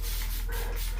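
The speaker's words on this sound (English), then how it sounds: "I just like to give a fresh spray on the side of the container" A spray bottle mists water onto the side of a tarantula's plastic enclosure, a short soft hissing burst up close with a faint second puff, no talking.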